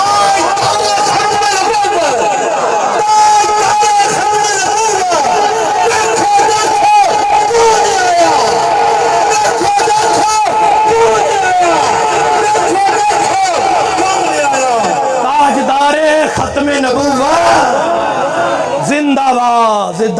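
A large crowd at a religious conference chants slogans loudly and continuously, voices massed together in a dense, unbroken roar.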